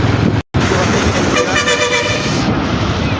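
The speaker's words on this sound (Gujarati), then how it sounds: "જો જાય રેલગાડી" Train rolling past a level crossing near a rail yard in Jetpur, loud and close throughout, with a brief horn-like tonal band partway through and a short dropout near the start.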